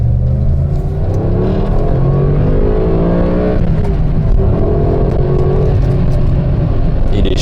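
A Lancia Thema, offered as a Ferrari-engined car for 15,000 euros, accelerates hard from inside the cabin, its engine note climbing steadily through the revs, loud and continuous with no talking.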